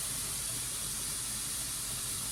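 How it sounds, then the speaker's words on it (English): A pot cooking boneless skinless chicken thighs vents a strong, steady jet of steam, a loud continuous hiss that stays even throughout without pause. "when you can feel it 12 to 18 inches above the pot coming out pretty strong, that's a strong vent"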